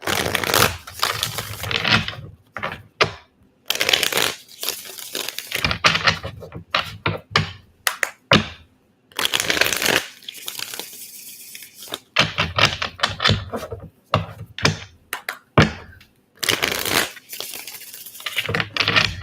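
Tarot cards shuffled again and again up close, bursts of rapid riffling and flicking separated by short pauses.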